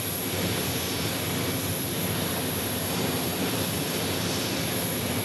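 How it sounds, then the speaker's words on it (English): A Delta airliner floats in to land at Phoenix Sky Harbor Airport, its jet engines giving a steady, loud, broadband roar that holds evenly throughout with no voices. "Nice floater there, my Delta."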